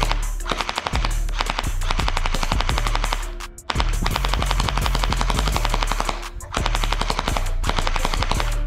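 A cyberpunk-style gel blaster fires at moving targets in loud, close, rapid full-auto bursts, with three long strings of shots separated by brief pauses.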